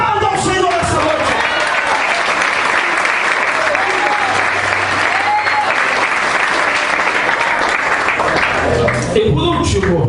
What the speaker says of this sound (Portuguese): então aplauda ao Senhor nessa noite